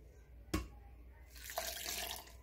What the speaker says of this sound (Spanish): y le ponemos un poquitito de agua.